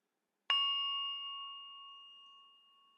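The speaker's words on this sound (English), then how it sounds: "I'll ring this bell for our official beginning" A single meditation bell is struck once at the start of a meditation session and rings out clearly, a bright sustained tone decaying slowly over a few seconds in an otherwise silent room.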